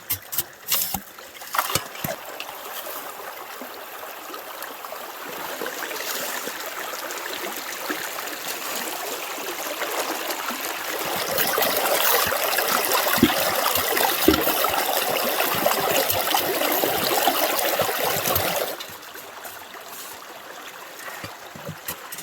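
River water rushes steadily through a gold prospecting sluice, a broadband wash of flow that grows louder in the middle stretch and eases off near the end, with no talking.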